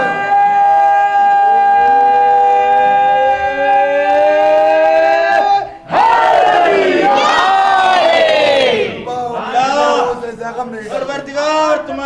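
A large crowd chants loudly in unison at a majlis inside an imambargah during a marsiya gathering. A long sustained tonal passage comes first, then the crowd bursts into loud, forceful rhythmic chanting.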